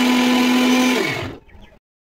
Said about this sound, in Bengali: এখন ব্লেন্ড করে নেব।